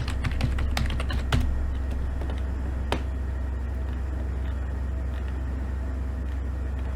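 Fingers tap a computer keyboard in a quick cluster of clicks during software design work, then a single later keystroke, all faint over a low steady background hum.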